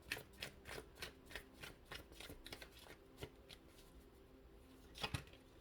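Tarot cards are shuffled in quick repeated riffles, giving faint, crisp, papery flutters in short rhythmic bursts near the listener, with a louder run near the end.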